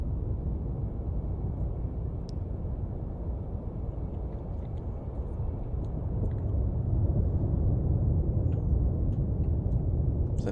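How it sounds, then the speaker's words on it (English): A distant aircraft in the Cold Waters submarine game gives a low, steady rumbling drone heard from inside the submarine, muffled and continuous, rising slightly toward the end, with faint clicks above it and no speech. "Is an aircraft above us again?"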